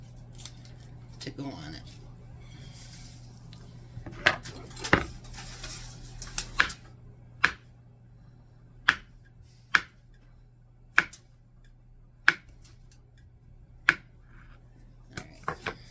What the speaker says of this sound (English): So I'm going to just slice up pads of butter